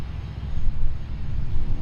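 An aerobatic airplane at the Seafair air show, a loud, close engine roar rumbling steadily and rising slightly as it passes.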